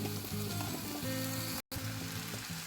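Chili powder and masala spices fry in a pan for a chicken roll filling, giving a loud, steady close sizzle with a few stirring scrapes and a brief dropout partway through.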